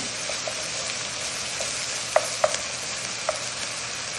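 A spoon works through a ground meat mixture in a sizzling pan, steady frying hiss with several distinct scraping knocks of the utensil against the pan, close and unaccompanied by speech.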